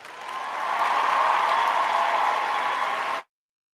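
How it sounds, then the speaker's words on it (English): Applause sound effect on a sports talk show: a broadband, steady wash of clapping that swells in and holds for about three seconds before cutting off abruptly, with no voices over it. "And for that, you get 3 seconds of applause."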